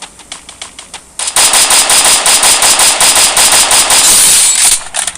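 Rapid automatic gunfire in a mobile shooter game, a few single shots followed by a loud sustained burst of fast rattling fire lasting several seconds.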